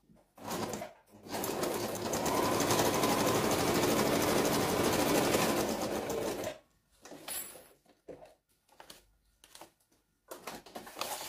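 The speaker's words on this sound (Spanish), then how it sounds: "Está cosiendo raro." A sewing machine stitches a folding fabric pouch in a steady, loud burst of rapid mechanical rattling for several seconds, then stops, leaving scattered short clicks and handling noises.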